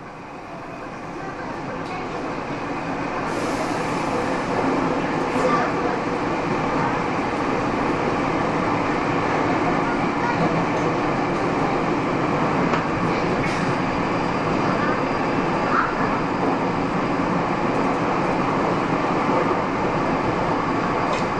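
A Nagoya City Subway Tsurumai Line train rumbles steadily along with broadband roar and faint rhythmic clatter, continuous and fairly loud throughout.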